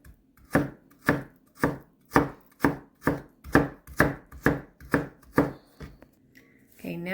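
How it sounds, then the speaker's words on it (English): A knife cuts potatoes into small French fry strips on a cutting board, about a dozen crisp, evenly spaced chops in a steady rhythm, close and clear with no talking. "we're going to cut them in French fry shape, very small though"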